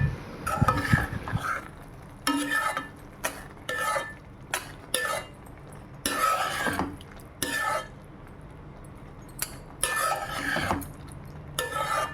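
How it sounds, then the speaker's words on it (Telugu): A spoon stirs a snack mixture with garam masala in a metal pan. The scraping and clattering strokes come in repeated bursts with short pauses between them, close and fairly loud. "ఆ మిశ్రమాన్ని అంతా బాగా కలుపుకోవాలి."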